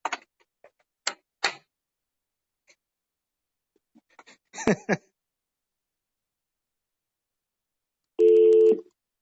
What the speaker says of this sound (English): that was me hitting a speakerphone to see if it worked